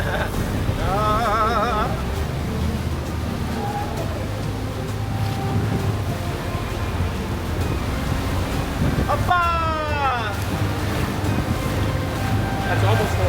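Sailboat motor running near full throttle on open water, a steady low drone under continuous wind and wave noise, with brief voices and a squeaky sweep partway through.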